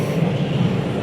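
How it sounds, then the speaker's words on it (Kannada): A train rumbles past close by, a steady low droning roar with no voices, lasting about a second. "ಟ್ರೈನ್ ನೋಡಿ ಗೈಸ್,"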